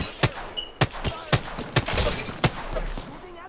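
Rapid gunfire in a fast-paced Apex Legends firefight, with sharp close shots in an uneven burst over a constant background of game noise.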